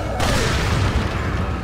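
A trap explosion in the video game Resident Evil 4, a loud dense boom that starts abruptly and fills the short stretch with a heavy rumbling roar.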